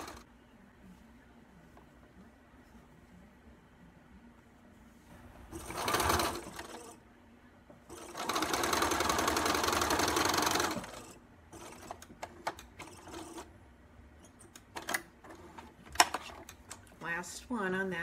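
A sewing machine stitches pieces of a white bee-shaped quilt appliqué, with two clear bursts of rapid whirring separated by quieter handling and soft clicks, close by.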